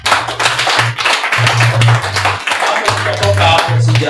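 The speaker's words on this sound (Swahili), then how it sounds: "Hebu piga makofi mazuri." An audience clapping at a gathering, a dense, loud burst of handclaps continuing for several seconds over a strong low musical hum, with voices mixed in.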